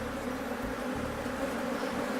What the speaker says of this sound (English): there is an aggressive beehive close by, and he suspects it might be inhabited by killer bees